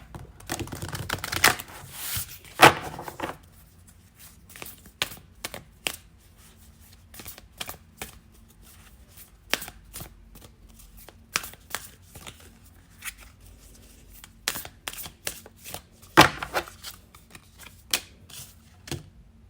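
Oracle cards shuffled and pulled from a deck, with soft papery flicks and riffles in scattered bursts and quiet gaps between them.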